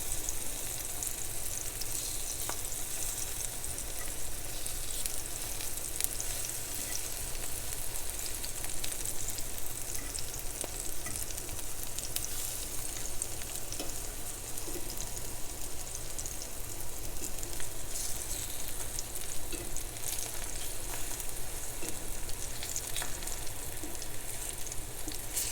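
Thinly sliced plantains fry in a pan of hot oil, giving a steady, close, continuous sizzle and crackle with no pauses and no voices.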